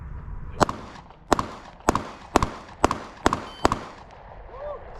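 Seven sharp gunshots from a shooting drill, fired in a quick, fairly even sequence, loud and close with short echoing tails and a faint background murmur between shots.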